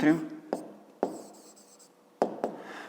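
A pen writes on paper with soft scratching strokes and several sharp taps of the pen tip, close up, after a brief voice at the start.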